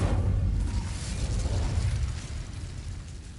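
A loud fiery whoosh from the Incendio fire spell in Hogwarts Legacy, a dense roaring burst that swells at once and then slowly fades over a few seconds, with no voices.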